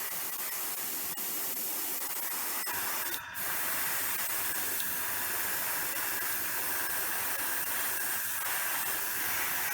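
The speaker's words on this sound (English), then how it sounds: "I'll transfer that to the airbrush and we'll make a start." An airbrush sprays thin layers of paint onto a Minerva McGonagall collector's bust, producing a continuous close, even hiss that barely pauses throughout.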